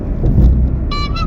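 Heavy traffic on the Skyway in the Philippines gives a loud, close low rumble of cars and engines, with a short horn toot near the end.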